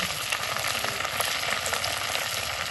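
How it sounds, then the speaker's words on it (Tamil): Constant crackling sizzle of garlic frying in hot oil in a clay pot, close up and steady throughout. "அடுத்தது பூண்டு நல்லா பொரியணும் அது அதனால தான் முதல்ல போடுறேன்"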